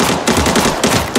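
Rapid automatic M4 Tron rifle fire in a video game, a loud, close burst of closely spaced shots.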